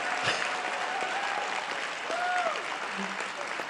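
A stand-up comedy audience applauds, a brief, fairly faint burst of clapping with some voices mixed in.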